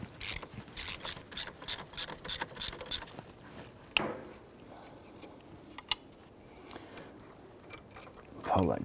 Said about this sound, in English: Using an 11/16 socket, go ahead and remove this nut here.